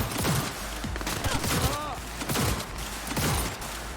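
Gunfire in the video game Cyberpunk 2077: several sharp shots and short bursts crack in quick succession over dense, loud game sound, with a brief whistling tone in the middle.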